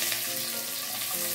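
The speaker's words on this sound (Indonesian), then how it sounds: "Kemudian kita panaskan sedikit minyak goreng dan kita tumis" Shallots, garlic and chili sizzle in hot cooking oil, a loud, continuous frying crackle heard close up with no talking.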